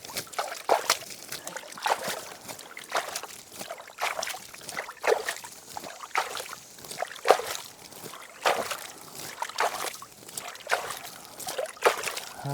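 Sugar water with yeast poured from a bucket onto a compost heap, repeated splashing and trickling pulses at moderate distance.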